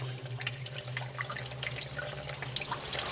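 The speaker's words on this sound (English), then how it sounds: "Just see the water dripping." Water trickles and drips into a small outdoor rock pool, a steady close splashing patter with scattered brighter drops and no voices.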